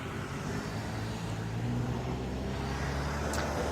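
Car passing along a busy neighborhood street in the morning, a steady broadband road rumble and engine hum, moderately near and continuous, with no talk.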